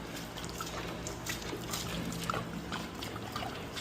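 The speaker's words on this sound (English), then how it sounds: "very gingerly dump some water out here so I'm not splashing water on the vehicle" Water dumped from a container onto the ground beside a vehicle being painted trickles and splashes in a steady, soft broadband wash, close by, with no speech.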